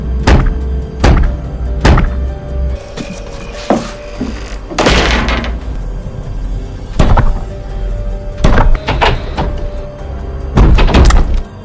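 A door being struck and forced from below: a series of heavy, booming thuds and wooden bangs in irregular bursts across several seconds, loud and close, with rattling and creaking between impacts and no voices.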